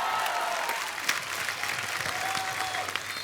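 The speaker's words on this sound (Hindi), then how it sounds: "एक बार जोरदार तालियां गोविंदा सर और सुनीता मैम के लिए।" Studio audience at a television comedy show breaks into loud, sustained applause, a dense wash of clapping that carries on without pause from start to finish.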